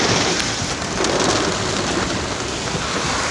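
Torrential rain pours down during a heavy storm in south Chicago, a loud, dense and steady roar of water hitting surfaces up close, with no pauses.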